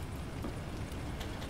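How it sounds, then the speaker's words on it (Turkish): Steady rain from the survival game Mr Prepper, a dense, even hiss of falling drops that holds unbroken throughout with no talk over it. "Ay yağmur yağmış dedim."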